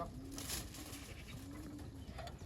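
Racing pigeons coo softly in their loft, giving a few low, rounded, repeated calls over quiet background noise.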